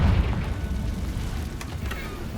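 Confringo blasting spell exploding in Hogwarts Legacy, a loud booming burst with a heavy low rumble that fades over a couple of seconds, alone without talk.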